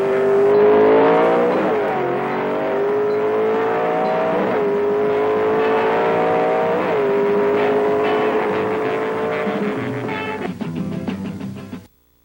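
Ford Thunderbolt and 427 Mercury Comet drag racing cars roar at full throttle, a loud sustained engine howl with repeated rising gear-change sweeps, running for about ten seconds before cutting off abruptly.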